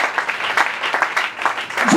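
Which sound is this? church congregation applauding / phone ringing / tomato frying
church congregation applauding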